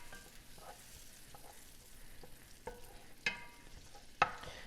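Garlic frying in a pan for shrimp scampi, a faint steady sizzle with occasional stirring scrapes and a couple of sharper clinks toward the end.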